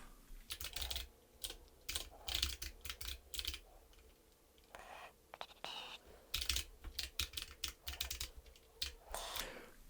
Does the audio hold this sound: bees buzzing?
no